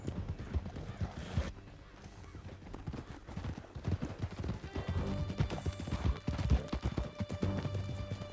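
Horses galloping hard in the Red Dead Redemption 2 video game, with a dense, continuous drum of hoofbeats and a snorting, whinnying horse over a steady low rumble.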